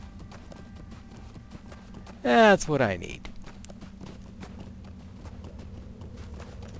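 Horse hooves clip-clop briefly in the Lord of the Rings Online video game, a short burst of steps with a whinny-like tone under quiet background sound, and someone speaks over it.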